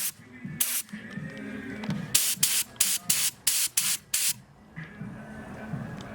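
Bursts of spray paint hiss onto a Honda Domani car part, about eight short close spurts in a quick series with brief pauses between them over a low background hum.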